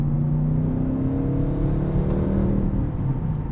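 A 2021 Audi RS6 Avant with a twin-turbo engine cruising during a night drive, heard from inside as a steady, fairly muted low engine drone and road hum, with no talking.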